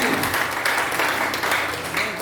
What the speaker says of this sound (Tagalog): Lahat ng masaya, pumalakpak ng malakas sa ating Panginoon.